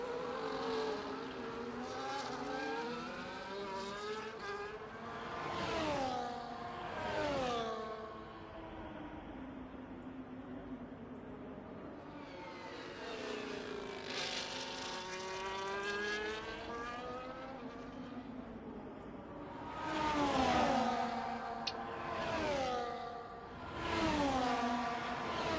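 Race car engines in a sim racing game on the Austria circuit, rising and falling through gear changes as cars pass, with quieter stretches between loud passes, fairly distant and steady.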